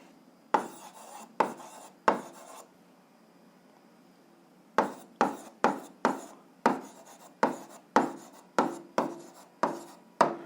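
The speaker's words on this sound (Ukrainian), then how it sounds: "Ну що ж, записуємо відповідь, пишемо відповідь." An answer being written out during an 8th-grade algebra exercise: brisk, scratchy strokes in two bursts separated by a pause, close and clear, with no talking.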